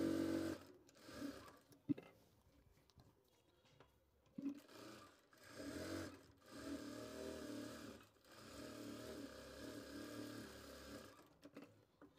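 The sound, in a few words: sewing machine stitching salwar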